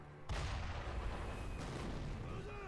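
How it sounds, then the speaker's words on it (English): A cannon firing in Sekiro: Shadows Die Twice, one sudden deep boom followed by a long rumbling roar and debris-like noise, with a second softer blast about a second later. "What, you freaking got a cannon over there?"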